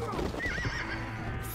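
A single horse whinny in the video game Red Dead rises and wavers for a moment, clear and fairly close, with a steady background hum.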